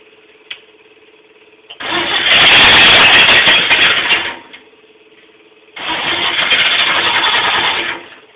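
An old 1938 Pontiac 223 engine is cranked and fires after sitting 53 years, two loud cranking-and-running bursts of a few seconds each, close by, separated by a quiet pause.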